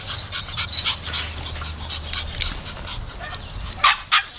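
Labrador puppies pant and whimper close by, a steady run of soft breathy panting with a couple of brief louder yelps near the end.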